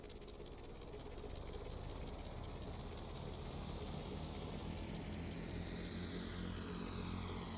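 Propeller aircraft engine of a plane flown in a video game, a steady, continuous drone that holds at an even loudness throughout with no voices over it.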